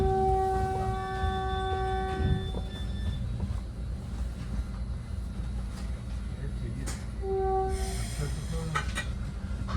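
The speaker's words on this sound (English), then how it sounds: "here we are pulling out of San Mateo Station with our next stop being Hillsdale" A Caltrain southbound express, train 522, pulls out of San Mateo station, its horn sounding in sustained blasts early on and again near the end over a steady rumble of rolling wheels, heard from on board.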